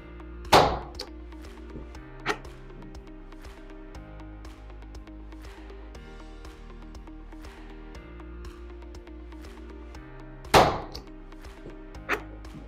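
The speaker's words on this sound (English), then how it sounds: "I'm gonna go ahead and shoot a few more studs here." Stud welding gun firing weld studs with a Lynx4 modular gap gun setup: two sharp, loud cracks at the start and two more near the end, each a brief burst over a steady machine hum, no talking.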